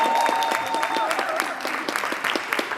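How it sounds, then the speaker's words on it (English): An audience at an expo panel discussion claps for the speakers, a sustained, fairly close round of applause with a few voices mixed into the clapping. "Let's give a huge round of applause to our speakers today."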